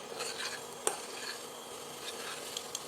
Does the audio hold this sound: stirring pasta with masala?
yes